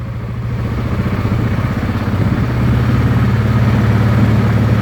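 A Wolverine 708 engine runs under load on a dyno, a steady loud mechanical drone with a low harmonic hum that swells slightly partway through, no voices.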